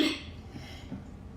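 One quiet, brief cough at the start, followed by soft background noise.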